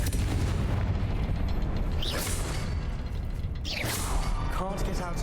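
Explosive spell blasts and a heavy mechanical rumble fill a Hogwarts Legacy battle as the Confringo spell goes off, loud and continuous, with whooshing sweeps and brief game voice sounds over the din.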